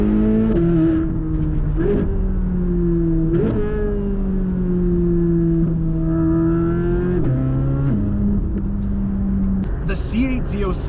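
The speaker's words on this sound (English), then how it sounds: "it just revs up instantly and begs you to floor it" A C8 Corvette Z06 engine revs hard at full throttle, its loud, steady drone climbing and dipping through several pulls, with brief gear-change breaks over about eleven seconds and talk faintly mixed in.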